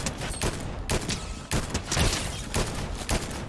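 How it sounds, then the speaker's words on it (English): Rapid sniper rifle fire in Fortnite, a dense run of sharp, booming in-game shots several times a second over continuous game noise, with no talk. "the sniper shoots a lot of shots in short period of time"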